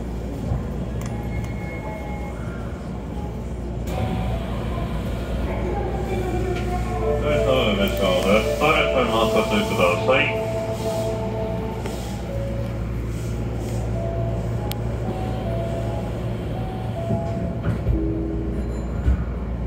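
An Osaka Metro Sakaisuji Line 1300 series local train bound for Tengachaya rumbles steadily along the track from inside the car. A whining, tonal motor sound swells in the middle and then settles back into the constant rolling noise.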